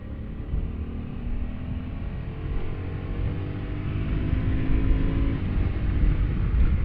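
A Honda Africa Twin motorcycle engine held at full throttle, a loud, steady low roar with slowly rising pitch as speed builds, heard from on board with rushing noise.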